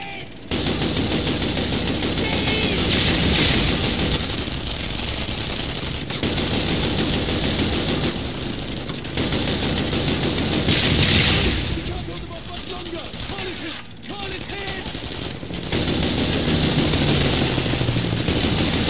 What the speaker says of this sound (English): Hawkins, get on the flak cannon!